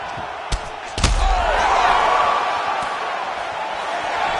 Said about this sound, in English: you hear a crowd react every time they come together because they understand the power that these guys are striking with